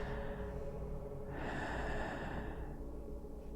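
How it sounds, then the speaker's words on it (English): Heavy, rasping breaths in a horror video game, a steady low breathy texture over a droning ambient bed, with a brighter breath swelling midway. "Some heavy breathing."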